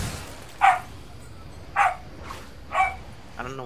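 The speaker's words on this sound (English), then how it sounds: "I don't know what my dog is barking at." A pet dog barks three times at an even pace, single sharp yelps spaced about a second apart, close by and fairly loud against a quiet room background.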